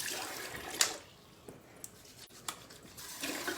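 Hands being washed under a running kitchen tap while making a caramel dessert, with faint splashing and a few brief clatters at low level and no talking.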